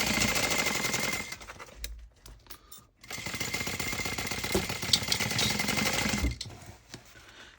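Sewing machine basting nylon webbing onto a tote bag, running in fast rattling bursts with a brief stop-and-start pause partway through, close and loud with no talking.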